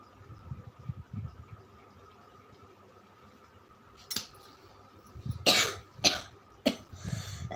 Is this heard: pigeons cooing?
no